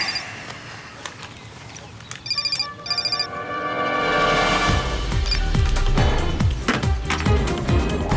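A telephone rings in two short electronic bursts early on and is left unanswered, then a louder, fuller background swells and takes over for the rest of the moment.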